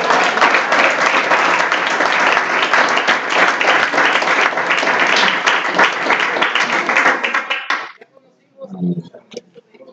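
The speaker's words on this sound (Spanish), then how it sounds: "¿Cuántos le dan palmas, señores?" A church congregation claps hands together in a dense, steady burst of applause for several seconds, then stops abruptly, leaving a few faint voices.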